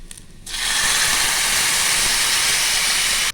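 Cooked chicken hits frying onions and green chilies in a hot pan, bursting into a loud, sudden, sustained hiss of sizzling that holds steady to the end.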